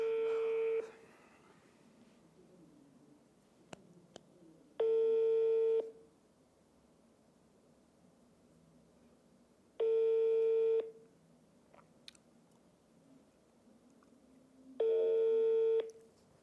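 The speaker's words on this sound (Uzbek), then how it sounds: "Yana bir marta telefon qilib ko'ramiz." Outgoing telephone call tones in a context of repeated unanswered calls: three long, loud ringback tones, each about a second, separated by roughly four-second silences with faint background noise.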